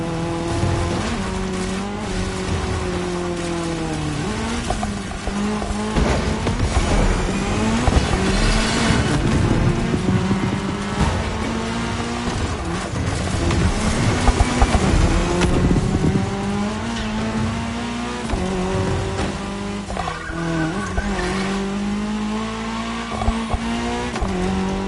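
Engines of race cars on tarmac in The Crew Motorfest howl steadily through gear changes, punctuated by squealing tires and skids during a mixed-discipline cross-terrain race, loud and up front without any voices.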